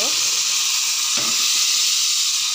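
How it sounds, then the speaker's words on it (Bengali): Boiled pea dal with pumpkin greens is poured into a hot tempering of dried red chili and nigella seeds, raising a loud, steady hiss of sizzling oil that holds for the whole moment. "এবার আমি এই ডালটা যে সিদ্ধ করে রেখেছিলাম শাক দিয়ে, এটা আমি ঢেলে দিব"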